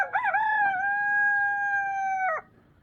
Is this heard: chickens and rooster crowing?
yes